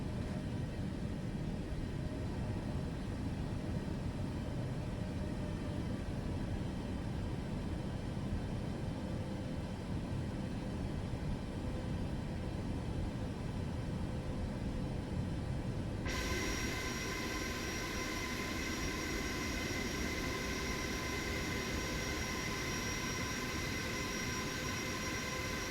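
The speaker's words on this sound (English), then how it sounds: "Clear for takeoff runway." An airliner in Microsoft Flight Simulator 2024 spools up for takeoff, a steady broadband engine roar that rises and brightens with a sharp jump partway through, then holds loud and even to the end, with no talk.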